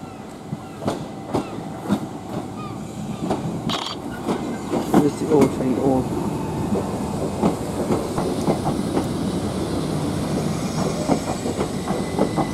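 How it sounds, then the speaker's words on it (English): A Southern Class 377 electric train departs Hastings with a rhythmic clickety-clack of wheels over rail joints, rising hiss and occasional squeals, loud and close throughout. "this train's from London Victoria to Hastings"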